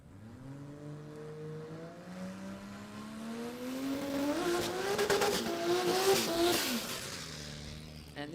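Two Holden VL drag racing cars in the modified 10.5 class launch together at an Adelaide drag racing event, engines climbing in pitch to a loud roar with tyre noise, then shifting and fading slightly at a distance.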